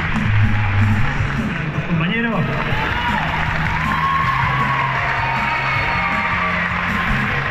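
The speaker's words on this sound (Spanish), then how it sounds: "Muy bien, un aplauso para el compañero." A crowd at an anime convention event cheers and applauds, with loud whoops and yells over steady clapping, while a voice speaks briefly into a microphone above the noise.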